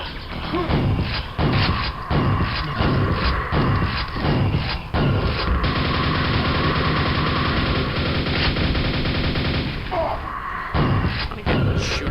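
Rapid gunfire from Quake, a sustained series of loud weapon blasts: sharp repeated bursts in the first half give way to a dense continuous roar of shots, close and prominent with no talk over it.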